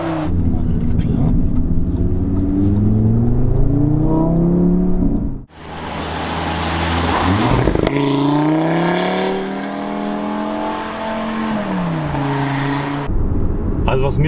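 An Audi RS3 five-cylinder engine on its stock exhaust revs and accelerates hard, rising and falling in pitch with a brief gear-change dip midway; the loud, close engine note fills the clip with no voices.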